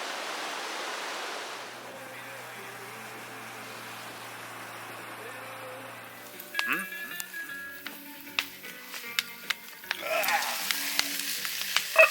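Meat searing in a pan at a lakeside wild campsite; after a quiet stretch with a soft outdoor rush, crackling sizzle and sharp pops and scrapes start midway and continue up close.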